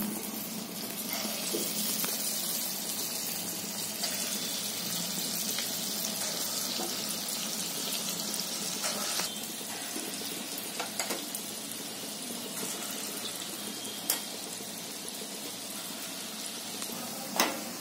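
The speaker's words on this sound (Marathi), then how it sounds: "आता मी हे वडे घालते" Moong dal vadas fry in hot oil with a steady, soft sizzling hiss that runs on evenly, with occasional faint clicks and taps near the end.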